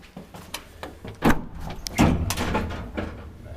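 An old Otis traction elevator in a Helsinki building with its door held open by a door stopper, giving a few close thuds and scraping rattles of the door and stopper amid faint room noise, with no talk.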